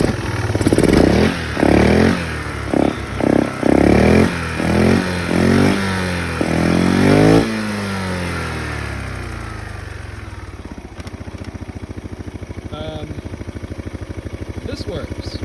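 Yamaha Majesty 400 scooter engine revving in repeated throttle blips, loud and close, then settling into a steady idle with a faint ticking; a person talks over it.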